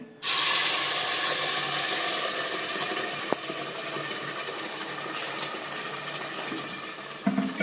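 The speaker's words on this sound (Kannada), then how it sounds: "ಇದರ ಜೊತೆ ಸ್ವಲ್ಪ ನೀರು ಹಾಕ್ಕೊಂಡು" Water poured into a pan holding ground masala for fish curry, a continuous close splashing and rushing pour that runs steadily for several seconds, with a couple of faint clinks.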